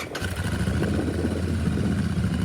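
A 2023 Royal Enfield Super Meteor 650 Astral twin-cylinder motorcycle catches with a brief crank and settles into a steady, close, low burbling idle.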